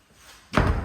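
A door being opened during an ingoing house inspection gives a single close, solid thud about halfway through, with a rumbling knock that lingers after a quiet start.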